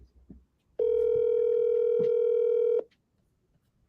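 A single outgoing call rings on the line with one steady ringback burst about two seconds long, clear and close, with faint background noise before and after and no speech.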